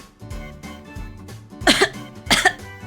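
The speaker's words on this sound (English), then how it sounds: "His grip was so tight it made me cough." A character in a visual novel game coughs twice after a tight hug, two sharp, loud, close bursts following a brief muffled throat sound, with no talking.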